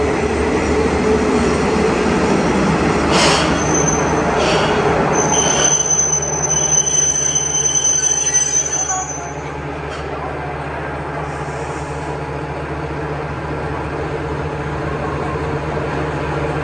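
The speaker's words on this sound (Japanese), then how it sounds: "これが乗る列車ですね。 熊本側の列車ですね。" A Hisatsu Orange Railway train rolls into a station, a loud continuous rumble of wheels on rail with brief squeals, easing to a steadier, quieter hum as it slows.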